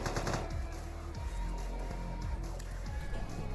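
Rapid bursts of gunfire in the game One-Armed Robbery rattle repeatedly under a dense, noisy background, with muffled voices faintly mixed in.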